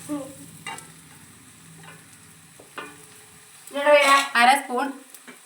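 Chili powder is stirred in a frying pan, with soft scraping and sizzling bursts near the end while a voice talks throughout.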